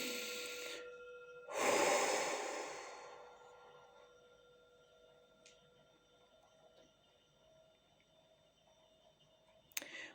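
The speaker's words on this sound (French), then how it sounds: "2-3 respirations profondes." A single deep, airy breath rises and fades slowly during a quiet guided meditation, set over a soft, sustained drone, followed by near silence and a faint click near the end.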